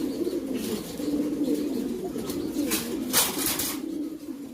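Lahore pigeons coo in a steady low murmur close by, several birds overlapping, with a brief brighter rustle near the end and no talking.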